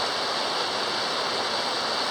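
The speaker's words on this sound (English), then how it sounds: "the noise of the water, but no waterfall yet" Rushing water from a mountain stream on a hiking trail near Pico de Orizaba, a dense, steady roar filling the whole moment, close and loud, with no voices.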